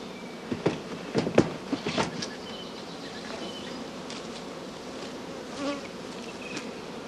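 Honeybee colony at the hive with frames of drawn comb and swarm queen cells, a steady low buzz throughout and a few louder bees passing close early on.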